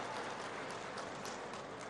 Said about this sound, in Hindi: ताली बजा के डॉक्टर साहब का स्वागत कीजिए